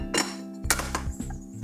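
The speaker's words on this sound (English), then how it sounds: "It just clamps right on." A detachable handle clamps onto a deep Redchef ceramic nonstick pan, giving a few short metallic clinks and knocks, close and fairly faint, with no talking.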